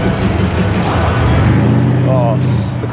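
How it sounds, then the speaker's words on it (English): A turbocharged Mercedes Jeep drives past on a road near London to Brighton, its engine rumble rising and falling over about three seconds, heard close amid wind and traffic noise. "Look at this in front, Mercedes Jeep turbo."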